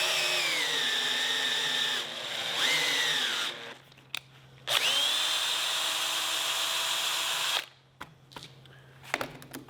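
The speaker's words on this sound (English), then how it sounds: "I drilled and tapped them" A power drill bores and taps holes in handles for workbench drawer fronts in a shop. Loud, sustained whirring runs stop and restart, with short pauses and a few clicks between runs.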